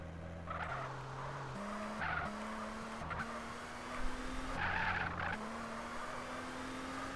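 Car engine in GTA San Andreas revving through stepped gear changes, with tires skidding and squealing in bursts over a steady game-engine drone.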